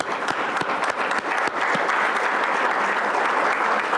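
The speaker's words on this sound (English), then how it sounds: "And give yourselves a round of applause." Steady, dense round of applause from a board of education meeting audience, sustained and fairly loud throughout with no talking over it.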